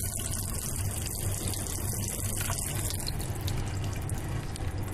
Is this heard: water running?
yes